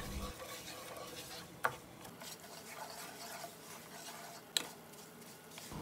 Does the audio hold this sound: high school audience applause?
no